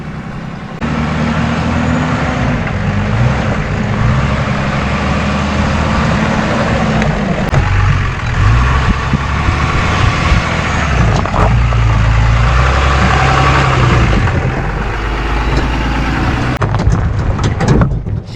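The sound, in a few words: truck engine crawling over a rocky section in 4x4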